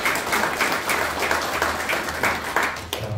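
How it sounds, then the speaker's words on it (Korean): A crowd at a year-end general assembly and party of a veterans' environmental group claps steadily, an even, fairly loud stream of applause over a low hum, fading slightly near the end. "박수 한번"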